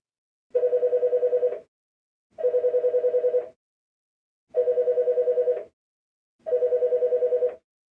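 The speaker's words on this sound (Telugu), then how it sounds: "ఇప్పుడైతే బన్నీ గారికి ఫోన్ చేస్తున్నాం, ఆయన రియాక్షన్ ఎట్లుంటుందో తెలియను." Phone ringing on an outgoing call, four evenly spaced bursts of a trilling electronic ring, each about a second long with short pauses between, clear and alone.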